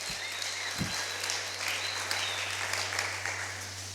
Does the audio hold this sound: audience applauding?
yes